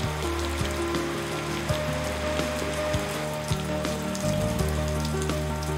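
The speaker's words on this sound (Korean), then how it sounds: "우기인 요즘 쏟아지는 열대 소나기 스콜은 이 마을 사람들에겐 반가운 선물이기도 합니다." Steady tropical rain squall pours down in the rainy season in Indonesia, a dense hiss of drops spattering on surfaces with a low rumble underneath, continuous throughout.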